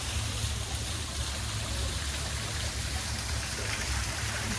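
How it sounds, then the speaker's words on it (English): A garden water fountain at a botanical garden splashes steadily, a continuous broadband wash of falling water with a low rumble underneath, close and unchanging throughout. "This is a water fountain."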